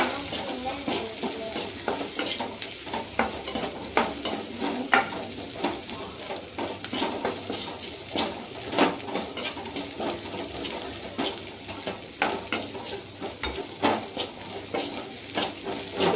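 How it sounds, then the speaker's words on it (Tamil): Poppy seeds sizzle and fry steadily in a hot pan, with a spoon stirring and scraping now and then, close up and continuous. "கசகசா 1/2 ஸ்பூன் போட்டு வதக்கிக்கலாம்."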